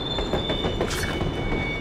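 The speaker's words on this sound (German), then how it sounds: "Oh, ich würde sagen, das ist ein Zug." Train pulling in within the video game Borderlands: The Pre-Sequel, a loud steady rumbling roar of rail cars with high squealing wheel tones running throughout, close and continuous.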